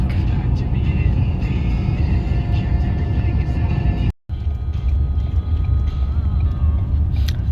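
A car drives through heavy traffic in Quebec, Canada, with a steady, loud road rumble and engine drone that drops out for a moment before carrying on.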